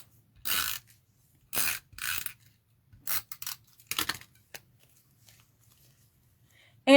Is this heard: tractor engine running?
no